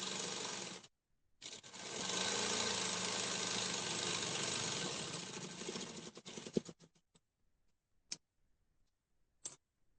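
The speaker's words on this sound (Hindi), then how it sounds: "दूसरी साइड भी इसी तरीके से हम निशान को बनाएंगे और सिलाई लगाएंगे।" A sewing machine stitches the side seam of a kurti in one continuous run of about five seconds. It then stops, followed by a few faint clicks in a quiet room.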